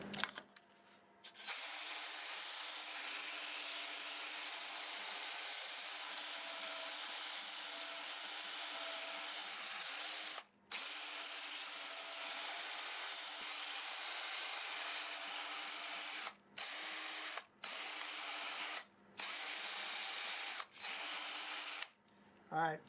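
A steady high whirring drone of a 1221 wood turning lathe sanding cherry wood, with an abrasive hiss, running continuously with a few brief stops.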